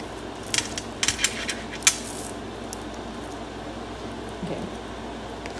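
An oracle card deck being split and shuffled, a few quiet papery riffles and snaps in short bursts early on, over a steady low background hiss.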